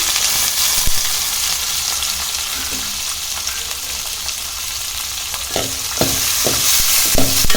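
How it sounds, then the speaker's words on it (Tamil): Small onions frying in oil for a fish curry, a loud continuous sizzle up close, with a run of sharp spoon taps and scrapes toward the end. "போட்டு நல்லா வதக்கிக்கோங்க"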